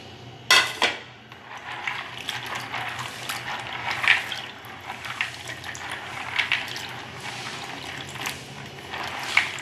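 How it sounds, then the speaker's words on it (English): Groundnuts being washed by hand in water, with sloshing and splashing, a few sharp clinks against the bowl, and irregular bursts of swirling liquid close by and moderately loud. "So right now I'm going to pour my groundnuts inside the water. I'm going to wash properly."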